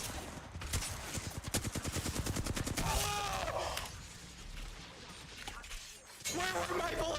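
Video-game gunfire crackles in a fast, dense burst of automatic shots up front, then eases into scattered in-game effects and a short swell of noise near the end, with a person talking over the top.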